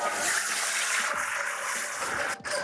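Milk poured into a pan of fried flour, a steady liquid pour and sizzle lasting a couple of seconds, close up, with a brief clatter near the end.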